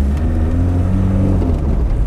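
A 1981 VW Rabbit diesel pickup creeps forward in first gear at about five miles an hour, its engine giving a steady, close, low rumble with a droning hum and no pauses.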